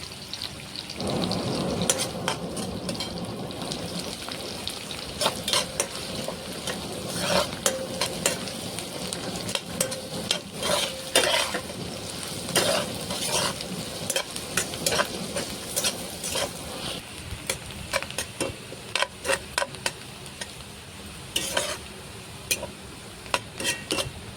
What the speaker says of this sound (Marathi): कांदा भाजून घ्यायचा आहे।